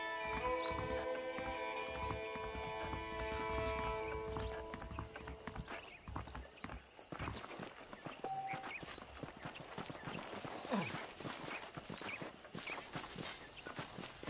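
Horse hooves clip-clop steadily in a Red Dead Redemption game scene, walking at a relaxed pace with a faint whinny and quiet background music fading early on.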